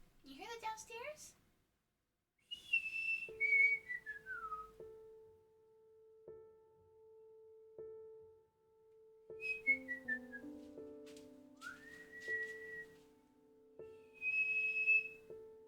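A person whistles to call a cat indoors, in several separate bursts of rising and falling pitch, with a steady tone droning underneath throughout.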